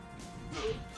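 A clay pot smashes in the video game Elderand with a single sharp crash and a quick thwack in one brief burst.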